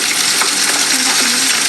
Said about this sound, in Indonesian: Nih bunda goreng ya